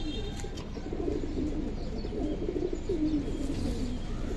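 Giribaz racing pigeons coo in low, repeated rolling calls over a constant rumbling background, steady and moderately close throughout.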